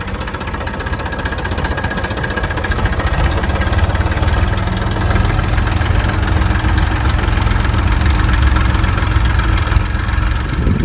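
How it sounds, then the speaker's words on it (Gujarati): A tractor engine chugs steadily and loudly up close while sowing groundnut in a field, a constant low diesel rumble with no letup and no voices. "શાળા કાઢવાની શરૂઆત થઈ ગઈ છે ટ્રેક્ટરથી"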